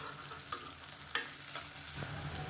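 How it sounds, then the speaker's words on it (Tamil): Halved shallots with rock salt sauté in a pan, a soft even sizzle broken by a few sharp spoon scrapes and clinks as they are stirred. "வெங்காயம் நல்லா வதங்கிட்டு இருக்கு"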